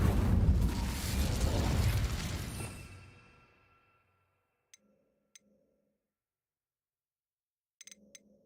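Incendio fire spell cast in the Hogwarts Legacy video game, a loud whooshing burst of flame that roars and then fades away over a few seconds, followed by near silence with a few faint clicks.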